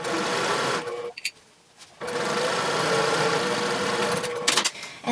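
A sewing machine stitches the side seam of a bag at a quarter-inch seam allowance, a steady close whir that stops briefly for about a second and then runs on evenly.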